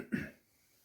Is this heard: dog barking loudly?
no